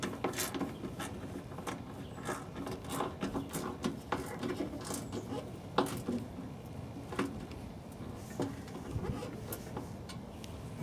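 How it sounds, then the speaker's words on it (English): Screws are worked back into the hood vent of a Jeep Wrangler, giving a steady run of small clicks, rubbing and ratcheting metal taps close by, with no voices. "The next step is to put the screws back in."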